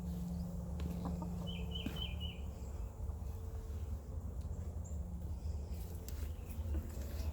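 Broody hens cluck softly on a small farm, a few faint, quick clucking bursts rising over a low background hum.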